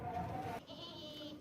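A Makhi Cheeni dairy goat gives a short, nasal bleat, a near, moderately loud call with a break partway through, with no talking.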